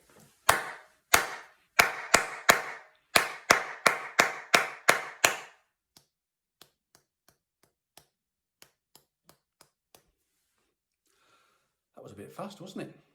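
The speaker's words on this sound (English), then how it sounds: "we're just going to clap. This time using our loud claps and our quiet claps." A rhythm of hand claps: about a dozen loud sharp claps in a steady pulse, then a run of much quieter claps, followed by a brief burst of talking at the end.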